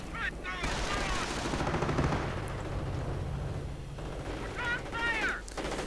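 Rifle squads and a Panzer unit trade fire in a real-time strategy game, with dense bursts of gunfire and rattling shots running continuously and loudly, plus a few whistling sweeps near the start and end.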